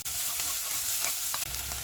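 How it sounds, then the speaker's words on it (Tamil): Garlic sautés in a pan for Chettinad cauliflower soup, a steady bright sizzle close up with a few scraping stirs of a spoon, no voices. "தோலெல்லாம் எடுத்துட்டு பூண்டையும் சேர்த்து வதக்கிக்கலாம்."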